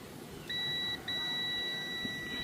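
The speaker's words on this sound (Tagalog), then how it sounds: "mag-check tayo dito gamit yung ating buzzer mode" A multimeter in continuity buzzer mode is tested across capacitor legs on a Samsung LED TV board. It gives a clear, high, steady electronic tone: a half-second beep, a tiny gap, then one long unbroken beep.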